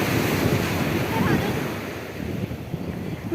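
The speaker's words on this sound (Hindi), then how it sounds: "बस लग रहा है इन समंदर की लहरों को समेट लूँ खुद में।" Sea waves breaking on the beach at Diu Island, a loud continuous wash of surf with wind buffeting the microphone, the roar easing slightly toward the end.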